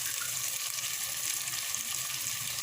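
Cubes of bottle gourd frying in oil in a cooking pan for a mutton curry, a steady hissing sizzle with faint stirring scrapes, close and even, no voices.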